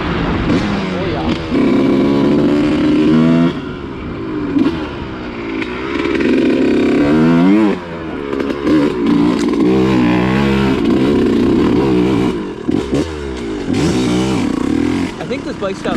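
A Suzuki RM125 two-stroke dirt bike engine revs in repeated loud bursts and drops over about sixteen seconds, with a raspy, buzzing tone, heard close and continuous.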